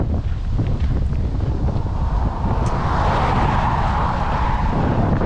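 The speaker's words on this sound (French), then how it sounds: "Il y a beaucoup de vent" Strong outdoor wind buffets the microphone throughout, a loud, constant rumbling roar with gusting swells and no voices heard.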